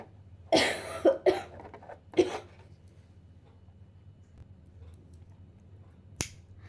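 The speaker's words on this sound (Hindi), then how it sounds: "मैं थोड़ा बीच में खांसने के लिए रुकूंगी" A woman coughs close by in a quiet room: a burst of about four harsh coughs in the first two seconds, then a pause, then one more short sharp cough near the end.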